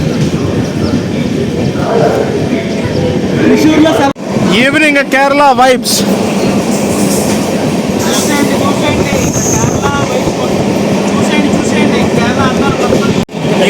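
The Amrit Bharat Express rumbles steadily along after leaving Thrissur station in Kerala, with a loud, constant roar and rattle of the coaches and a few brief squeals and clanks, while someone talks over it.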